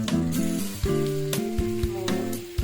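Meat sizzles and fries in a pan over a gas flame, a steady close crackle with occasional stirring scrapes and clinks.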